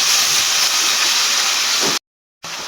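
Onion browning in a pan for aloo baingan, giving a loud, steady sizzling hiss that fills most of the stretch before cutting out briefly near the end.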